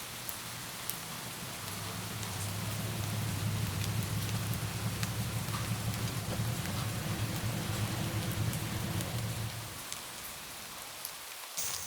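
Heavy, steady rain pours down for most of the clip as a dense, even hiss with a low rumble, then eases slightly near the end.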